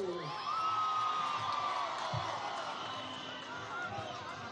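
A crowd at a Nicolás Maduro campaign rally in Zulia state, July 2024, cheers, whoops and shouts in a continuous roar heard from a distance.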